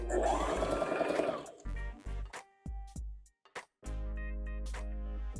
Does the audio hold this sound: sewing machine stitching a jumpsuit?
yes